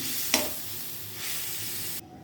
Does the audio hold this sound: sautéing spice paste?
yes